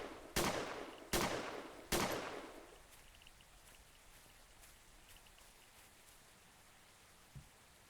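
Three loud, booming shotgun blasts in quick succession in the horror video game Pipe Head Horror Zone, each trailing off, followed by near silence and a faint thump.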